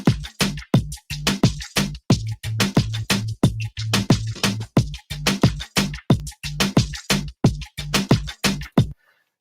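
Punchy, dry bass notes play in a steady repeating pattern for several seconds, loud and close, then stop abruptly.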